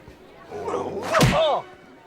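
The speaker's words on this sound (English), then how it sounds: "Did that dog just punch someone?" A punch sound effect in the Scooby-Doo movie lands as a single sharp whoosh and smack, brief and fairly loud, with voices and film audio around it.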